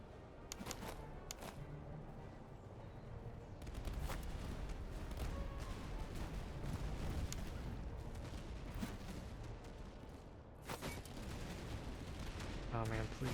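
Musket fire aimed at Grenzer Hussars in Master of Command crackles in dense, overlapping volleys, a steady rattle of shots that runs throughout at moderate, somewhat distant loudness.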